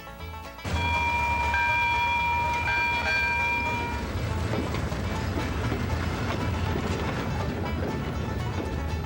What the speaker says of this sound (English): it sure felt good when our engineer, Don Smith, got us rolling towards Flemington